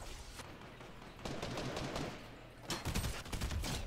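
Burst-fire shots in the video game Fortnite ring out in quick, tight volleys, close and loud, over a steady rumbling background.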